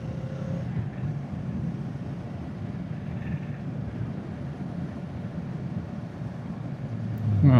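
A motorbike on a country road near Anglezarke Reservoir, a steady low engine drone mixed with wind rush over the microphone, growing louder at the end.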